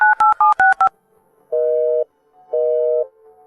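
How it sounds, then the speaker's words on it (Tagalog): Five quick telephone keypad tones, then two longer, evenly spaced beeps like a busy or unanswered line, loud and clean. "Hindi makontak ang telepono."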